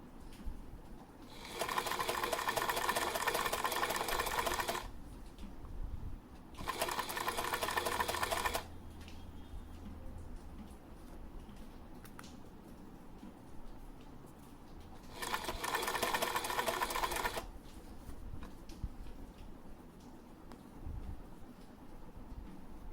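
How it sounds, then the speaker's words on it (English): A sewing machine stitches fabric close to the edge in three bursts of rapid, steady whirring, each lasting a few seconds and separated by quiet pauses. "So try to stitch as close to the edge as possible."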